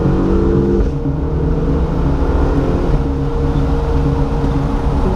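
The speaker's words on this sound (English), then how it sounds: "some of you might say that the exhaust is not as screamy or sharp as a naturally aspirated Ferrari" A 2015 Ferrari California T with a twin-turbo V8 accelerates, its exhaust a loud, close, droning growl that drops in pitch at a couple of gear changes, then pulls on steadily.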